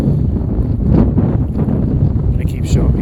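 Gusty wind buffets the microphone outdoors on a breezy day while a Potensic Atom drone flies, making a steady, loud, low rumble with uneven swells throughout.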